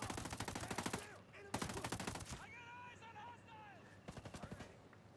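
Bursts of rapid gunfire from the 516 Shorty shotgun in Ghost Recon Breakpoint as it fires on a heavy enemy, two loud close volleys with a pause between them and a final short burst, with game sounds in the gaps.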